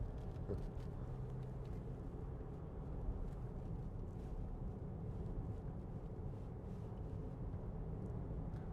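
A 2016 Land Rover Discovery Sport 2.0 TD4 diesel automatic with four-wheel drive cruising on a country road, giving a steady low rumble of engine and road noise from inside the cabin with no talking.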